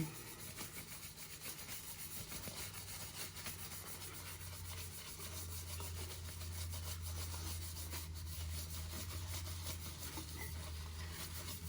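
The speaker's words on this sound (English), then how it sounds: "And then I take my steel wool and I rub." Steel wool loaded with Bar Keepers Friend soft scrub rubbed over a steel tumbler for a matte finish, giving a steady, close, continuous scouring rasp with a low hum beneath, no talk.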